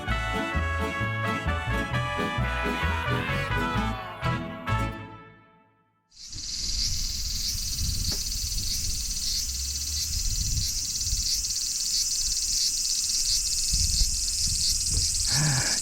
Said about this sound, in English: Gotta love the cicadas.